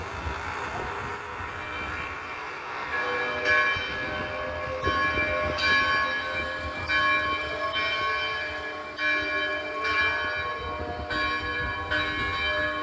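A church bell rings out in a repeated, steady series of resonant strikes in Kolar Gold Fields, Karnataka, heard at moderate distance over a constant background hum with no talking.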